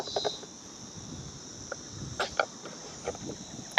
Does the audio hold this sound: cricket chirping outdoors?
yes